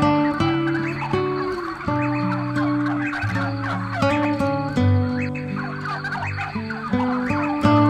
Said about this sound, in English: It's a turkey bird.